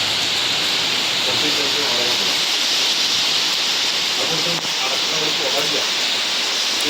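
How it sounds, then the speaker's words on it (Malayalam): Steady, dense hiss of rain falling, even and continuous throughout, with faint voices murmuring underneath. "ഇതാ നമ്മുടെ വീട്ടിലൊക്കെ മഴ പെയ്തുകൊണ്ടിരിക്കുന്നുണ്ട്"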